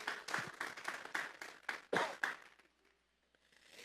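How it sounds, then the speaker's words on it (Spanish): Church congregation clapping together in a loose burst of applause, sustained for a couple of seconds before thinning out and fading to near silence, heard moderately close in a room. "Vamos a darle un fuerte aplauso pues al Señor esta tarde"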